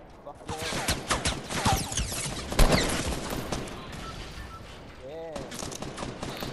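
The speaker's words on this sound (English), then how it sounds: "She's shooting me." Bursts of Fortnite gunfire crackle through a busy firefight, with dense automatic volleys and a sharp loud blast near the middle, all heard under excited voices of players talking throughout.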